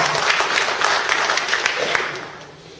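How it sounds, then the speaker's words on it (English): A room of attendees at a community group's monthly meeting gives a round of applause, dense steady clapping that tapers off near the end. "just give Carl a round of applause for all that he does"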